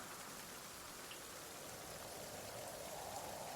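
Rain and wind outside a tavern, a steady dense hiss of rainfall with no breaks, fairly faint and continuous throughout.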